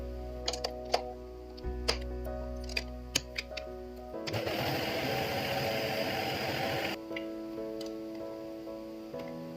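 A cake mixer creams cream cheese for a no-bake cheesecake. Light ticks and taps lead into a loud, steady whirring run of the mixer that lasts a few seconds and then cuts off to quieter clicks.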